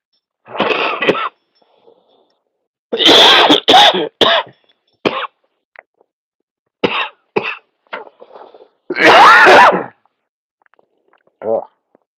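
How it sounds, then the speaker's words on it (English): A person coughs after taking a hit from a smoke, in repeated harsh, loud bursts close to the microphone, separated by pauses with a few quieter throaty sounds between fits. "Sorry for coughing in your ear"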